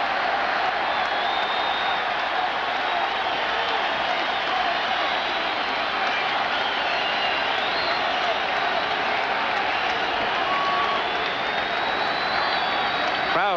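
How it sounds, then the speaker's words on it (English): A baseball stadium crowd at a 1986 National League Championship Series game between the Astros and Mets roars continuously with a broad wash of applause and cheering, steady throughout, with a broadcast voice faintly underneath. "Crowd trying to get into the ball game now"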